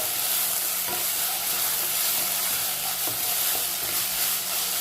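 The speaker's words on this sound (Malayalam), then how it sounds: "ഏകദേശം ഒന്ന് വാടിക്കുന്ന വെളുത്തുള്ളി നമുക്ക് നന്നായിട്ട് കൂട്ടി കുഴക്കാം" Garlic fries and softens in a hot pan as it is stirred and mixed in. A loud, continuous sizzle carries a few soft knocks and scrapes from the spoon, close up and without talk.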